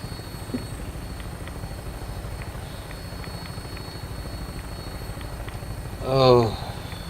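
A Vertibird aircraft in Fallout 4 takes off with a steady, throbbing rotor chop that runs throughout, while a brief voice rises near the end.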